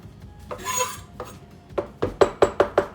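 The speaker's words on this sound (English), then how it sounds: "I know, I'm not supposed to scrape my knife." A metal knife scrapes across a cutting board while caviar toast points are prepared, first a couple of slow drawn rasps, then a quick series of five or six short, crisp scrapes close up.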